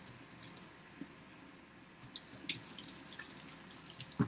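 Cold tap water runs and drips as seeds are rinsed in a jar, with soft splashes, trickles and small wet clinks, quiet and close, growing slightly busier toward the end with no one talking.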